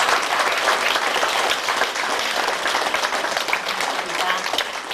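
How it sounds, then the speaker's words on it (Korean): Warm applause from guests at a reception for an international arts festival, steady dense clapping filling the room, with some voices mixed underneath. "네, 크게 박수 좀 올려주세요."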